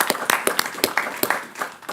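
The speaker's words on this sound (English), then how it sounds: "let's give her a round of applause" A small group applauds an employee at a city commission meeting. The claps are sparse and distinct, coming from a handful of people at moderate distance and tapering off after about two seconds.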